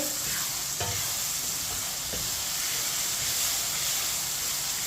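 A spoon stirs boiled white chickpeas cooking in a pan for chana pulao. A steady close sizzle carries throughout, with a few soft scrapes and taps from the spoon.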